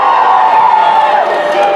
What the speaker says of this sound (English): They could be just cheering for both guys.